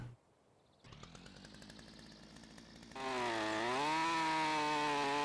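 A chainsaw cutting logs in Lumberjack Simulator, starting quiet, then idling with a steady buzz before revving into a loud, sustained high whine.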